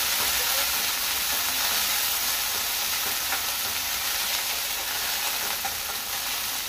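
Food fries in a pan with coriander leaves, giving a steady, close, bright sizzle that holds at an even loudness throughout, with no talking.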